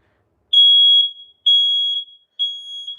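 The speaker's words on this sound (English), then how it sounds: "just some random ionization detector that I took apart one time for a video" An ionization smoke detector, taken apart, sounds three loud, shrill electronic beeps, each held about half a second with short gaps between, alone in silence.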